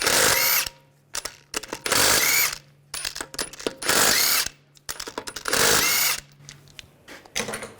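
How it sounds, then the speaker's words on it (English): A pneumatic impact wrench with a 17mm socket rattles off lug bolts on a 2009-2017 Volkswagen Tiguan, firing in several loud, close hammering bursts with short quiet gaps between them. "Using a 17mm socket, we're going to take these lug bolts off."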